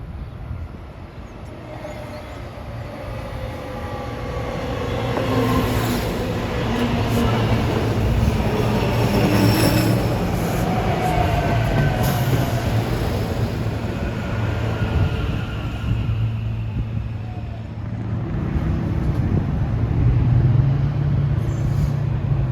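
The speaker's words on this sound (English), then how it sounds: "here comes 1756 from Septa, Trenton to Philadelphia" A SEPTA regional rail train running from Trenton to Philadelphia passes by, a loud continuous rumble and clatter of wheels on track that swells in the middle, with faint whining tones above it.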